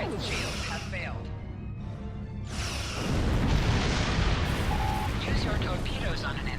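Torpedo blasts in Star Trek Online on Xbox One boom and rumble in heavy, broad bursts of space combat, layered under game voice prompts and a player talking.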